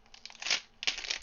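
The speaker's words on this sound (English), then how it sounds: "Let me take the plastic off" Thin plastic film peeled off a new ASUS ROG Ally handheld gaming PC, two bursts of close, crisp crinkling and tearing separated by a brief lull.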